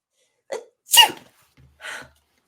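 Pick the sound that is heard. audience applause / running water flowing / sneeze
sneeze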